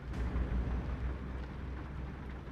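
Steady rain while driving a truck in Euro Truck Simulator 2, a dense, even wash of rain noise with a low rumble underneath, continuous and fairly loud throughout with no talking.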